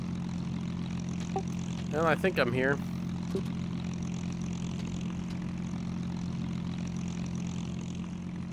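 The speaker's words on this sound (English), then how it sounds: "I can hear another plane." Propeller plane flying nearby in the IL-2 VR combat flight game, a low steady engine drone that continues under the player's own cockpit hum while someone speaks briefly.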